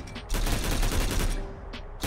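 Sustained automatic fire from a PKP Pecheneg machine gun in the STALCRAFT: X video game, a dense unbroken burst lasting most of the moment, followed by a brief pause and another shot or burst at the end.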